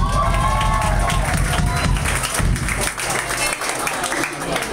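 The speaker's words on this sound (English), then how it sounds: "let's give a big round of applause to Collective for putting this on" A concert audience applauds and cheers at a live indie band show, a dense continuous wash of clapping and crowd noise with voices mixed in throughout.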